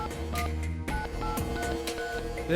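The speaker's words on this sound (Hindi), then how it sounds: "यही नंबर मिलाया था ना तूने?" A telephone number being dialed, a quick sequence of touch-tone beeps in a police drama scene, loud and close over a background music bed, with no talk.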